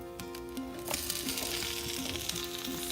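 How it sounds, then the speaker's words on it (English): Sliced pepper, scallions and garlic drop into an oiled pan and burst into a loud, rising sizzle that settles into steady crackling frying, with a faint tonal hum in the background. "add another tablespoon or two of oil back into your pan, and then place all of your veggies"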